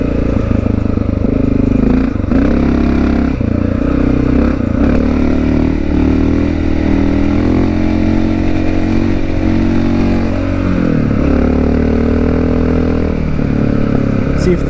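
A Honda XR650L motorcycle engine pulls hard in third gear on a mountain road, a loud, steady single-cylinder drone with slight rises and dips in pitch and rattling clatter throughout.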